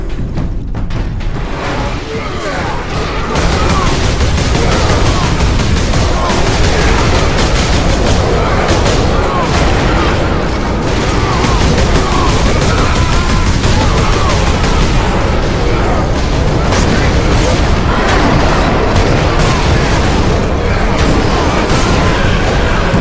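Grenade blasts and gunfire in Warhammer 40K Space Marine, a dense, loud, continuous barrage of shots and booms filling the whole stretch after a brief quieter opening.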